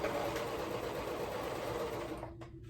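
A sewing machine stitching fabric runs steadily with a dense, fast whirring stitch, then stops abruptly near the end, leaving a couple of faint clicks.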